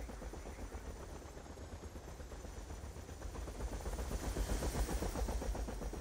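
Helicopter flying amid gunfire in the video game Battlefield 2, a conquest league match: dense, continuous rattling bursts of machine-gun fire over a steady low rotor drone, growing louder toward the end.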